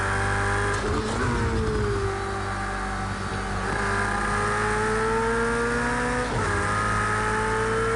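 A race car with a massive V8 engine revs and shifts through gears in Project Cars 2, during a long endurance race at Donington. It stays loud and constant, rising and dropping in pitch, with no voices over it.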